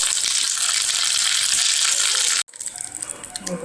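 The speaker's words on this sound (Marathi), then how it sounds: "इथं फोडणीसाठी तेल गरम केलं आहे, इथं फोडणी करून घेऊया" Spices tempering in hot oil for a Maharashtrian dal kairi (lentil and raw mango) dish hiss with a loud, steady, bright sizzle, which cuts off abruptly and then returns as quieter, uneven crackling.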